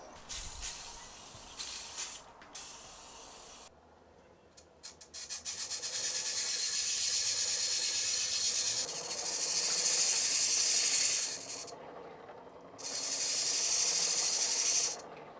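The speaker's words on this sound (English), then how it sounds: "Now I'm going to try and sharpen up a bit on my grinding stone." A piece of flint is sharpened on a grinding stone, making long, loud, hissing scrapes close by, broken by a few short pauses, with no talking.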